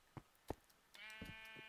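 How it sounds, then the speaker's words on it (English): Sheep bleating in the Minecraft Feed the Beast modpack, a few short bleats and then a longer drawn-out bleat with a clear tonal ring, moderately near and heard alone. "Oh, I hear sheep."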